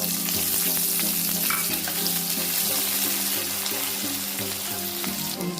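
Chopped small onions hit coconut oil with spluttering mustard seeds, setting off a loud, dense, continuous sizzle with faint stirring scrapes and no voices.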